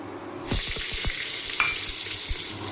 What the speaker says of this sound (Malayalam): ആ ചട്ടി ചൂടെ, ഞാൻ കുറച്ച് എണ്ണ ഒഴിക്കട്ടെ